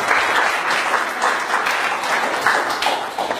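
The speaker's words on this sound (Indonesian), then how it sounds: "tepuk tangan buat Anda semuanya." A seminar audience at a business talk bursts into loud, close applause, a thick continuous clatter of many hands with slight surges in intensity.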